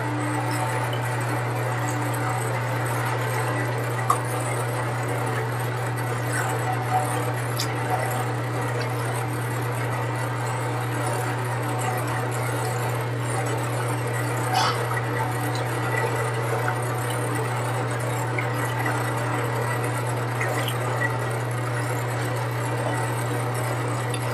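A mixer in a chemical engineering mixing tank hums steadily for the whole stretch, a constant low drone with faint background clicks and no speech.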